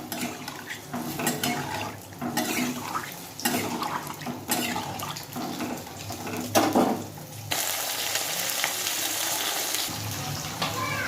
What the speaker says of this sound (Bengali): আর এদিকে আমার মুড়ো ভাজা প্রায় হয়ে এসেছে